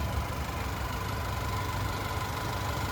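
The 2.7-liter turbocharged four-cylinder in a 2023 Chevrolet Colorado LT idles under the open hood with a steady, low mechanical hum and faint knocking rhythm, heard close and alone.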